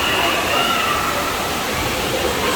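Water splashing at an aquapark in Almaty, a steady, loud rush of spray and falling water that fills the whole short stretch, with faint voices mixed in.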